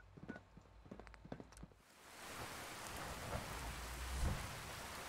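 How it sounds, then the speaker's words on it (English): Steady rain hisses across the ground in the open world of Fallout 4, a broad wash that swells in after a couple of seconds of quieter footsteps and holds evenly, with a faint low rumble of thunder near the end. "Wouldn't be a day if we didn't have at least some rain, right?"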